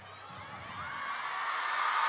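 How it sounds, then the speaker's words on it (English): An indoor crowd at a women's table tennis match in China rises in a swelling murmur of voices and whoops before play begins, growing steadily louder over a couple of seconds. "the crowd eager to get this one underway. You can hear the noise growing, the anticipation building"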